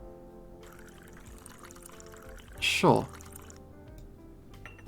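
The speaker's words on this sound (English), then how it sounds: "Now grab the pot and pour the water into the coffee machine." In a coffee-making video game, water pours from a pot into a coffee machine in one brief, splashy burst partway through, with someone speaking briefly and soft background music.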